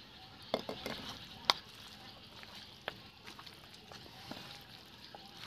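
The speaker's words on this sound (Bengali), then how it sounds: "দিয়ে মাংসের সঙ্গে মশলাটা খুব ভালো করে মেশাতে হবে।" Duck meat being stirred with spices in a clay pot along with potatoes, soft scraping and clinking of a spoon against the pot with a few sharp knocks over a faint sizzle.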